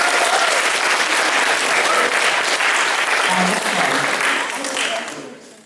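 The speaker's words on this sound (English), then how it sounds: "So can I have a round of applause for Bryce Miller?" Loud, dense audience applause at a speech and debate showcase, a full-room clapping roar that holds steady and then tapers off toward the end.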